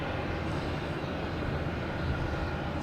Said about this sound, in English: So we have the JetBlue backing up here, turning around.